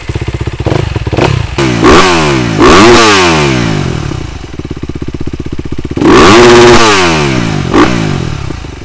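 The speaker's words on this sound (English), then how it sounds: "it's a fast revving and easy revving engine" A 2019 Honda CRF250RX dirt bike engine revs hard in quick bursts, climbing and dropping sharply several times between stretches of choppy idle, loud and close.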